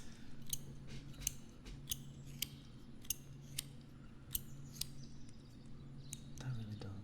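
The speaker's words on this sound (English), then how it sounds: "That really does sound like just a scissors." Scissors snip repeatedly in an irregular rhythm of sharp, crisp cuts, close and fairly quiet, over a steady low hum and faint background noise.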